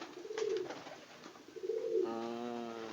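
A young silver perkutut, a contest songbird, coos twice in soft rounded notes, then holds a steadier ringing call, close and clear with no talking.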